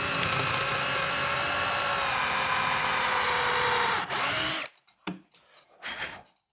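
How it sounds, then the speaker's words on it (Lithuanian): A power drill runs steadily and loudly while boring a hole, then stops abruptly, leaving a few faint handling noises. "Perjungiam greitai ant gręžimo. Na ir gręšiu."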